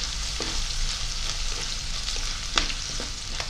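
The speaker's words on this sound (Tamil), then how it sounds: "சரி, இப்போ வெங்காயம் பச்சை மிளகாய் இதுகள் எல்லாமே நல்லா வதங்கிட்டுது." Onions and green chillies sauté in a pan with fennel and cumin seeds for a fish curry, making a soft, continuous frying sizzle with a few sharp stirring clicks.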